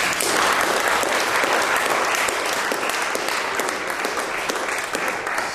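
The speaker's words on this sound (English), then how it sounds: "Let's give them applause, please." Audience applauding students at an academic session: dense, steady clapping from a sizeable crowd throughout, loud and close, with no speech over it.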